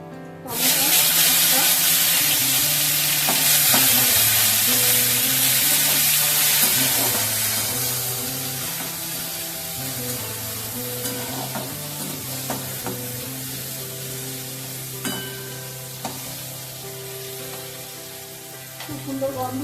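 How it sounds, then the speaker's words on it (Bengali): Whole cumin seeds fry with cloves and cinnamon over a lowered gas flame, giving a loud, steady sizzle and crackle that gradually softens, broken by occasional stirring scrapes and a low hum underneath. "গোটা জিরে এগুলোকে ভালো করে ভেজে নেবো"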